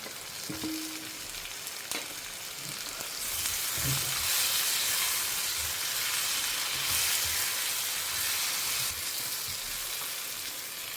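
Vegetables for a Tamil kara kuzhambu sauté in a hot pan, a soft steady sizzle that swells after a few seconds and holds, with a couple of stirring knocks and no talking.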